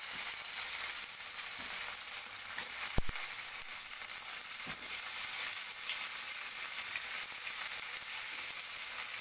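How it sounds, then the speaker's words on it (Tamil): Ingredients with tomato sauté in a pan for a village-style Tamil white kuzhambu, giving a continuous, even frying hiss with one brief knock partway through. "இப்பொழுது நாம் இதை நன்றாக வதக்கி கொள்ளலாம்."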